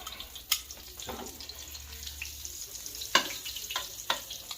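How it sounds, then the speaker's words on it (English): Soft, steady sizzling of a pork chop frying in a pan, with a few sharp clinks and scrapes over the quiet crackle. "I can hear it. Hear it sizzling now."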